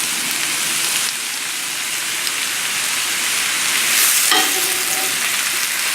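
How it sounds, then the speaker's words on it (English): Shrimp fry in a pan with vegetables and brown rice, a loud, steady sizzle like heavy rain, close up, with a brief surge of crackling near the end and no talk. "And now we add the shrimps."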